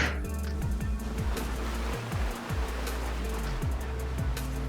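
In the Fortnite video game, a car drives through a river, with a continuous rushing, surf-like water wash under repeated low engine tones that dip and rise over a few seconds.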